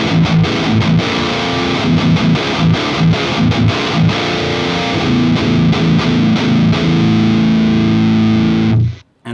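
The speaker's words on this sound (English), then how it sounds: "let's activate that boost. And this is what it sounds like through the Powerball module." Heavily boosted electric guitar, sent over a NUX B-8 wireless system into a Powerball module, churns out thick distorted chords with steady rhythmic chugging, loud and continuous before cutting off abruptly near the end.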